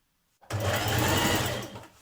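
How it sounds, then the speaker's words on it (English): A sewing machine runs steadily for just over a second, stay stitching around a dress neckline with a close, loud, continuous whir that starts abruptly and then tapers off. "we're going to do some stay stitching around this neckline"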